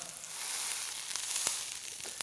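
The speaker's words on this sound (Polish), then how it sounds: "Dzięki temu bakłażan będzie powoli się smażył od dołu" Eggplant pressed down in a hot grill pan sizzles quietly and steadily, with a few sharp crackles and pops rising out of the soft frying hiss.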